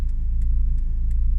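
A 1-litre K11 Nissan Micra drives along at a steady pace, its small engine giving a continuous low, pulsing hum under road rumble, with faint brief ticks recurring at regular intervals.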